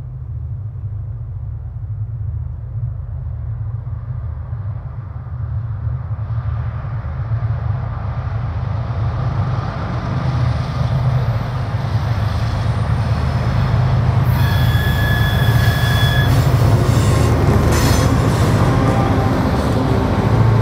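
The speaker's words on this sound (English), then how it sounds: "The terrain starts to shake as the train enters the" CSX freight train entering a 527-foot tunnel in the Blue Ridge Mountains, a continuous heavy low rumble that grows louder and rougher, with squealing metallic tones joining near the end.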